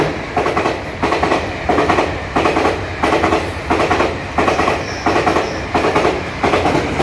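A train passes through Shanli railway station in Taitung, a small mountain station, with loud, steady rhythmic clickety-clack of wheels over rail joints repeating close by for several seconds.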